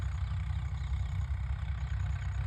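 A Swaraj tractor engine runs at a steady low rumble, a continuous deep idling drone with no change in pace and no voices.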